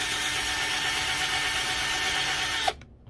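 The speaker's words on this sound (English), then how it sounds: "I just drill a small hole through the wood." A power drill bores a small hole through wood, whirring loud and steady for nearly three seconds before cutting off abruptly.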